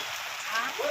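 Rain falling at a market, a dense hiss of drops on surfaces, steady and fairly near, with a faint voice briefly audible.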